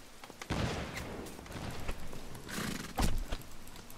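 Galloping hoofbeats and a horse's whinny from Mount & Blade: Warband, with loud clip-clop bursts amid battle noise and distant gunfire over about four seconds.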